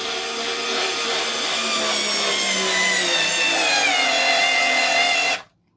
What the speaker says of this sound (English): Let's see how this 4-volt Ryobi puts a screw into the sheetrock into this